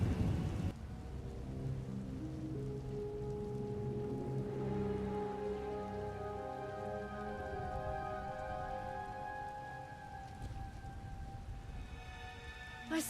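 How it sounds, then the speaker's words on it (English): Steady rain pours down with low rolling thunder rumbling beneath it in the video game Knights of the Eternal Throne, a continuous stormy wash with tonal music layered over it. "Hard to track them through the storm. Rain's wiped out the trail."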